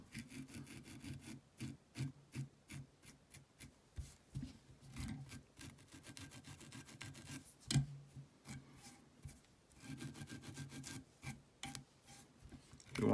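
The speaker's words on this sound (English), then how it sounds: "Grab your Velcro tool" A Velcro tool rasps through the dubbing on a Grapefruit Leech fly in quick, repeated strokes, close and fairly quiet, with short pauses between bursts of scratching.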